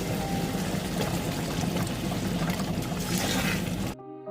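Vinegar pours steadily into a spaghetti masala in a home kitchen, a continuous close splashing trickle that stops abruptly near the end.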